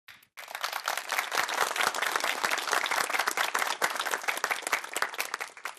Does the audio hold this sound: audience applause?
yes